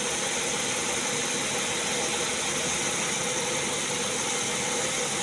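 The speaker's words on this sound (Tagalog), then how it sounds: "Yung parang nabubulunan yung makina." A car engine idles roughly and unevenly, sputtering and stumbling in a steady, close, continuous drone with no voices.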